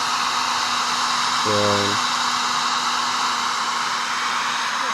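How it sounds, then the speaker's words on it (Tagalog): A heat blower roars steadily while heating vinyl decal stickers, a continuous broadband whoosh with a constant hum; a voice speaks briefly partway through. "pagkatapos mo kabit ng decals, i-blower mo siya"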